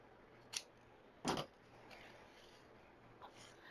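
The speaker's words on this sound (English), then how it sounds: "we've got tails. So let's just go ahead and trim these." Two quick crisp snips of scissors cutting ribbon tails on a decorated wreath with willow vines, close but quiet in a hushed room, followed by a faint rustle.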